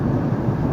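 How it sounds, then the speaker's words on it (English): Thunder during a thunderstorm, a brief deep low rumble that rolls on steadily at close range, heavy in the bass with no voices over it. "Okay, that's definitely thunder."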